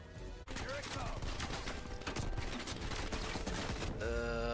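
Rapid, dense gunfire from the video game Call of Duty Black Ops Cold War, loud and sustained for several seconds with a brief break near the start, overlapping other battle sounds and music.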